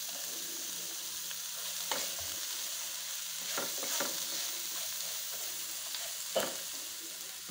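Onion and bell pepper fry in a very hot pan, giving a steady sizzle with occasional stirring clatters and scrapes, close by and alone without talk.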